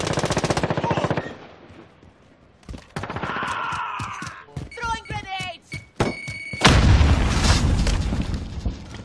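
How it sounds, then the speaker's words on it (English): Call of Duty Black Ops gameplay with loud bursts of automatic gunfire, heavy thuds and booming grenade explosions, layered with electronic game effects and a shouting voice. "Throwing grenades!"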